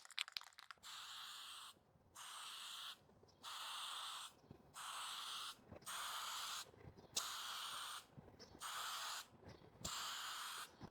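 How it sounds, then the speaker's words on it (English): Spray paint hisses onto a KTM motorcycle engine coated in a thin layer of grease, in about eight even bursts of roughly a second each, separated by brief pauses, quiet and close. "I put a thin layer of grease and I'm going to spray over it"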